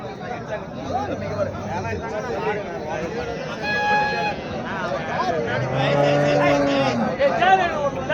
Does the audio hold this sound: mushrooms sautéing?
no